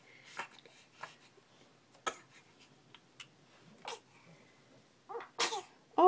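A baby waking from a nap gives several small, sharp sneezes spread across a few seconds, with quiet rustling between them and a faint high squeak near the end.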